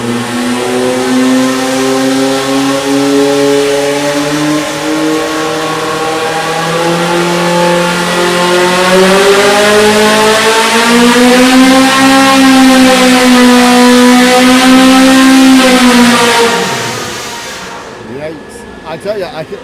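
An EMPI air-cooled engine revs on a dyno during a competition pull, a loud sustained roar that climbs steadily in pitch for about fifteen seconds before dropping off abruptly.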